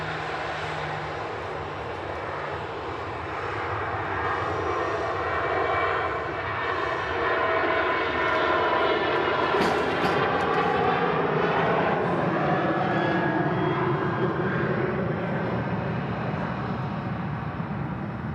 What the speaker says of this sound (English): A380 turning final second to land